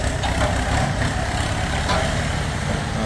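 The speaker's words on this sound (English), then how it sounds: "tractor pulling the boat there." Tractor engine rumbling steadily on a street while towing a boat, a continuous low, close idling drone with no talk.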